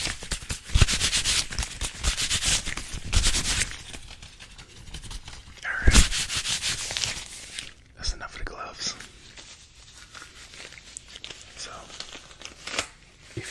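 Fast ASMR glove sounds: rapid rubbing, crinkling and tearing-like textures from gloved hands, close and busy, with bursts and brief pauses.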